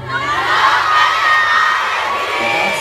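Schoolgirls at a school in Shimla scream a battle cry together, a sustained, loud, high-pitched crowd shout lasting a few seconds with no break.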